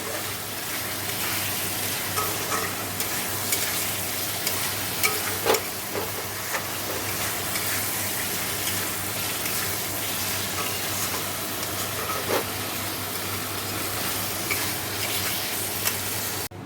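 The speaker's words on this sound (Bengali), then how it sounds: "মশলাটা একটু কষিয়ে ডিমগুলো দিয়ে দিলাম ডিম দিয়ে কষাবো" Duck eggs stirred and fried in a spice masala for a kosha dish, a continuous close sizzle with steady spoon scraping against the pan, loud and unbroken with no talking.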